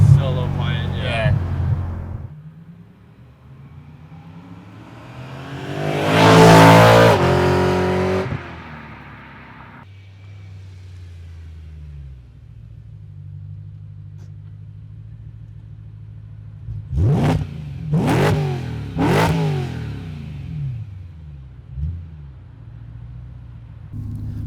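A BMW E92 M3 fitted with a Magnaflow exhaust accelerates hard in a loud rising surge, then eases off, and later barks through several quick downshift blips over a low rumbling idle.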